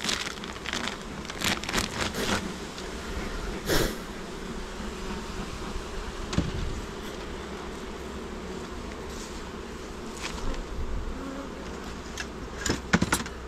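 Honeybees swarm around an open hive during a beekeeper's visit, a dense steady buzz filling the air with scattered crackles and close passes of individual bees.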